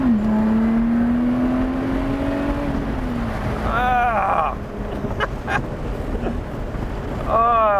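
A supercharged, modified Toyota Camry engine in a 2012-era Lotus Exige revs steadily then climbs and drops with supercharger whine, loud and close, rising again near the end.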